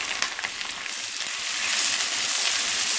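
Onion, ginger, garlic and green chilies fry in hot oil for an Andhra gongura mutton curry, a steady close crackling sizzle that grows slightly louder and denser partway through, with no voices.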